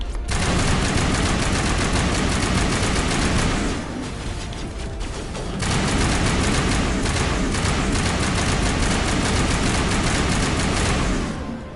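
A Mass Effect firefight fills the scene with loud, continuous automatic gunfire and rapid rattling bursts. The fire eases briefly in the middle, then resumes just as densely.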